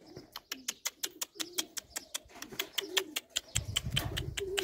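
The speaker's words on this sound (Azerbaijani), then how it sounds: "Quşlar yarışdan gəldilər." Racing homing pigeons back from a 340 km race stage coo repeatedly and fairly close, with rhythmic soft calls overlapping one another and a low rumble of birds shuffling toward the end.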